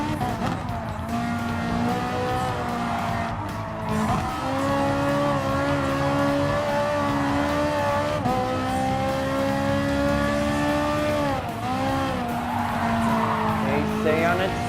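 Race car engines roaring in Gran Turismo Sport, a Nissan GT-R among cars in a Nürburgring 24-hour or IMSA race, with a Ferrari 458 Italia GT3 running: steady high engine whine rising and falling through gear shifts, loud throughout with tire squeal.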